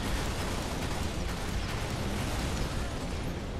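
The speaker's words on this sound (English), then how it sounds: "Alright, three explosions, that's good enough." Explosions in Halo Reach, a dense continuous roar of loud bursts and rumbling debris filling the whole few seconds at close range, with repeated sharp pops riding on top and no talk.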